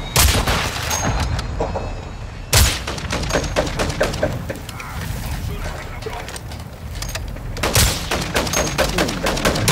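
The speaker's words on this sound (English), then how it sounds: "we love shooting each other" Rapid bursts of video game gunfire with sharp, loud shots and dense volleys, a few strong single blasts standing out, while players talk over the action.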